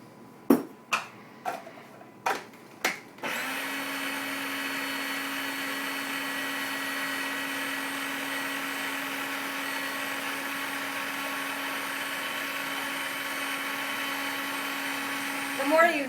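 Homemade mayonnaise made with powdered eggs: a few sharp taps, then an electric blender whirs steadily and evenly for a long stretch before briefly changing pitch at the end.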